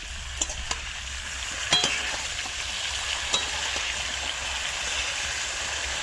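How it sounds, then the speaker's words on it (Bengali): Cauliflower florets frying in oil with salt, giving a steady close sizzle and crackle, with a few brief clicks of a utensil stirring through the pan. "শুধু ফুলকপিটার মধ্যে লবণ দিয়ে ভেজে নেব আর হালকা বাদামি হলে তুলে নেব"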